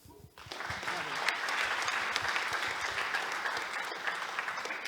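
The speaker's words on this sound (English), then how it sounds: "Give Debbie a round of applause, please." Applause from a conference audience bursts in after a brief quiet start and continues as dense, steady clapping to the end.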